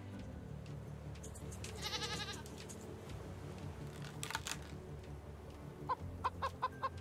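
Chickens cluck and squawk in short bursts in the survival video game Raft, with several clucking calls toward the end over a quiet ambient background.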